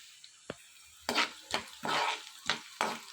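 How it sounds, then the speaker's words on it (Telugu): Cumin, coriander seeds and garlic hit hot oil for a tomato coriander chutney, giving several short bursts of crackling sizzle and spatula scrapes spaced about half a second apart, fairly close and moderately loud. "ఆయిల్ బాగా వేడెక్కిన తర్వాత జీలకర్ర ధనియాలు ఎల్లుల్లిపాయలు వేసుకొని ఇవన్నీ వేయించుకోవాలి"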